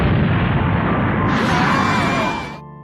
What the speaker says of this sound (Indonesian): Hal itu menimbulkan ledakan yang sangat besar